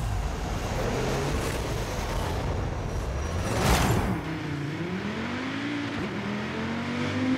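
A 2020 Audi RS3 Sedan drives in the Forza Horizon 5 video game, its engine rising and falling through revs and gear changes, with a loud surge around the middle.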